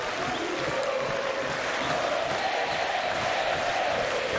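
A tennis crowd roars in steady, dense applause and cheering after a winning overhead brings up break point in the 2006 Buenos Aires semifinal, filling the whole stretch with no pauses.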